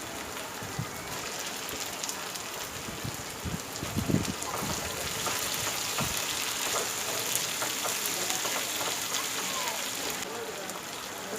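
Tomatoes frying in hot oil for a bread biryani, a steady close sizzle with scattered small pops and crackles throughout.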